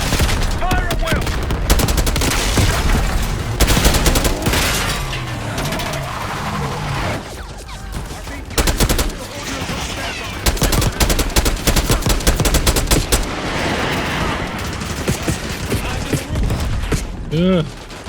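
Heavy gunfire in Call of Duty Black Ops 6 during an assault on a palace gate, with repeated bursts of automatic fire and scattered shots layered over music, explosions and occasional voices.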